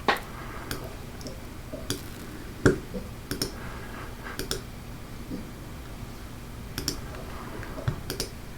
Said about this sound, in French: Et on clique, on coche la case.